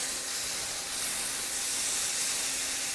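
Beef hitting hot oil and spices in a pan for a Kerala-style nadan beef curry, giving a steady, even hiss that holds at one level from start to finish with no voices.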